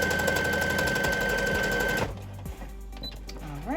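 A sewing machine stitches a knit neckband, running in a fast, even rattle for about two seconds before stopping abruptly, followed by faint handling clicks and rustles.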